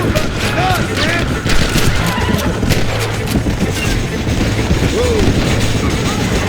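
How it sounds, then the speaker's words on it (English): Dense gunfire during a shootout with rebels in Red Dead Redemption, rapid overlapping shots crackling continuously at loud volume, with game sounds and shouted voices mixed underneath. "Open fire!"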